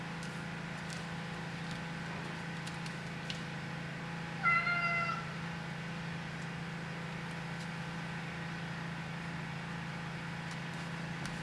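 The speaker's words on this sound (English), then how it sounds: "I think my cat wants some attention to open up the stream" A house cat gives a single short meow partway through, close and fairly clear, against a steady low hum of indoor background noise.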